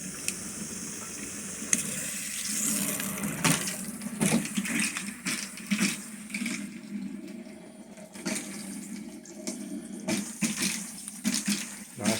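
Steady running tap water pours and splashes into a 20-gallon long aquarium tank, a continuous hissing gush with occasional bumps and clatters.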